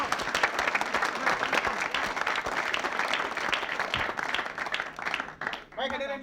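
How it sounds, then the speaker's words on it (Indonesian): Audience clapping at an Indonesian comedy show, a dense burst of applause that thins out near the end, with a host's voice heard over it. "hadirin tepuk tangan buat Mas Pong."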